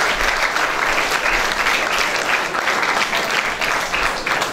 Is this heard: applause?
yes